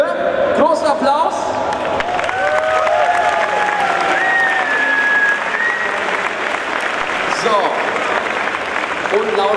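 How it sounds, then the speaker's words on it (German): An audience applauds a group standing together on stage, with steady, dense clapping and some crowd noise that carries for about ten seconds without a break. "Großen Applaus."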